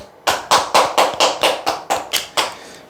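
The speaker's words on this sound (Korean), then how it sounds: "박수 한번 치시죠." Hands clap in a steady, even rhythm of about ten sharp claps at an encouraging moment in a sales coaching session, close and loud, with no one talking.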